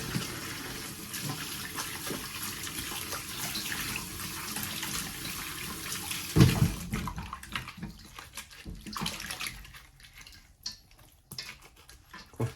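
Steady running water from a tap while a winter melon is washed in a kitchen, a continuous loud rush for about six seconds that then drops to quieter trickling and splashing.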